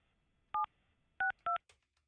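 Three crisp DTMF telephone keypad tones beep in quick succession while a phone number is dialed, each a short, clear two-note burst over near silence, followed by a faint click.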